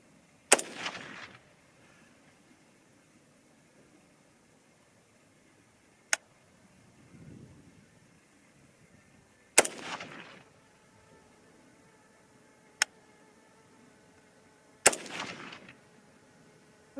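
Three sharp rifle shots from a new Bear Creek Arsenal varmint rifle fired from a bag rest at a shooting range, spaced several seconds apart, each a loud crack with a brief decaying echo, with faint clicks between them.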